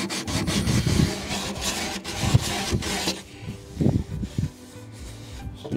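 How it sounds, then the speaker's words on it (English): Steady abrasive rubbing of sandpaper on wood inside a drilled hole in a cornhole board, continuous and close, with a few louder scraping strokes and knocks toward the end. "Now I'm just sanding the inside,"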